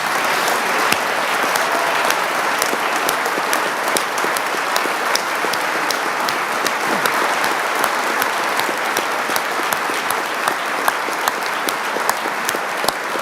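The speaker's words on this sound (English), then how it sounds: "I want us to give a big round of applause to all of the members of the band" Sustained applause from a large crowd at New Jersey's State of the State address honoring public sector staff, dense and steady clapping with occasional sharp claps and cheers throughout.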